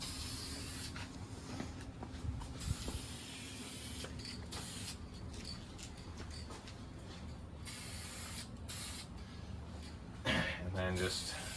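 Aerosol tint sprayed in medium and wet coats onto the taillights of a 2018 Toyota 4Runner, recurring hissing bursts with short pauses between passes while someone talks.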